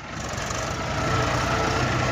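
A Mahindra or Massey tractor engine running steadily in reverse gear at about 1000 RPM, a dense continuous diesel rumble, close and fairly loud, no voices.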